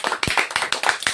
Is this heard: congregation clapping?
yes